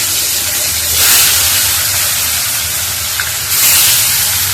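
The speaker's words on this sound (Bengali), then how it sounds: "মাছটা হালকা একটু ভাজবো" Fish fries lightly in oil with a loud, steady hiss that swells in two bursts.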